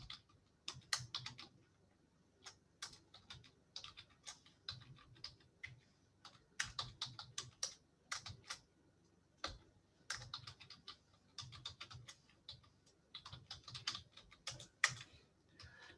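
Code being typed on a computer keyboard, a steady run of quick, close key clicks in irregular bursts with short pauses between phrases, fairly quiet and with no talking.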